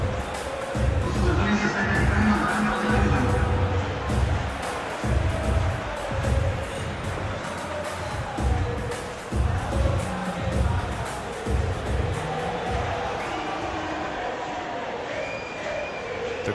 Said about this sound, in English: The atmosphere created by these manic fans, a stark contrast to the grey skies we see above.